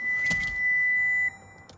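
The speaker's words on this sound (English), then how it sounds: "I don't know why that alarm's going." A 2021 Toyota Hilux Double Cab 2.8 D4-D alarm sounding with the bonnet up, a steady high electronic tone held for over a second, close and fairly loud, then cut off before a faint click.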